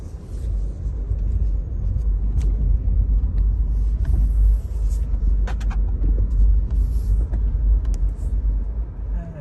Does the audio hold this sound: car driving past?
yes